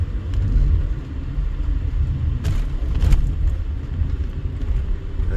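Cars pass steadily in traffic along a street in an East Las Vegas neighborhood, a continuous low rumble of engines and tires with a couple of brief, brighter whooshes as vehicles go by.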